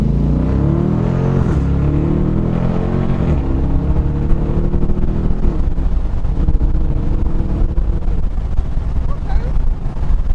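A Dodge Challenger accelerates hard from a rolling start, its engine note climbing loud and close through several rising gear pulls over about ten seconds, with a dense low rumble and wind buffeting.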